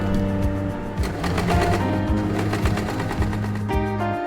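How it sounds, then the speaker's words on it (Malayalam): A sewing machine runs in a fast, steady buzzing rattle as it stitches cut cloth pieces together for a homemade table mat, loud and close, with a brief change in pitch near the end and no talking. "ഇനി ഈ പിങ്ക് ലൈൻ വരെ നമുക്കിത് തയ്ച്ചു കൊടുക്കാം"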